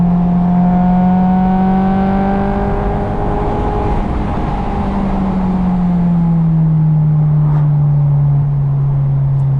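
A car engine revs hard toward 9,000 RPM, a loud, sustained tone that climbs in pitch, holds near the top and then eases down while driving along a road.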